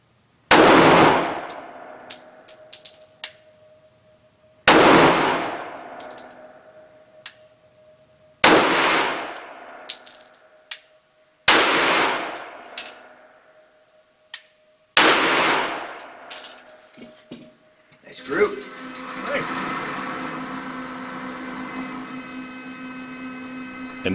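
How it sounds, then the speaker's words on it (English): Five sharp shots fired one at a time from a 4-inch duty-size Walther P99 pistol at 7 yards, each loud crack ringing out and fading over a few seconds, then ending in a steady noisy wash. "Next, the duty size 4-inch barreled Walther P99, also 5 shots at 7 yards."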